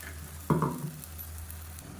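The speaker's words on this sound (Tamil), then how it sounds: "இதையும் நல்லா எண்ணெய் பிரிஞ்சு வர அளவுக்கு வதக்கி விட்டுக்கலாம்" Ginger garlic paste and onion masala sautéing in hot oil for a vegetable biryani, giving a soft sizzle with a brief burst of stirring scrapes in the pan, close and fairly quiet.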